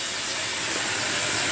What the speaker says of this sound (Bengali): এবার এই তাওয়ার মধ্যে জল দিচ্ছি।